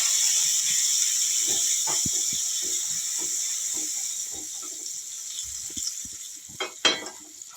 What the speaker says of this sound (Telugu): కొద్దిగా వాటర్ తీసుకొని ఓకే పెనం వేడెక్కినట్టు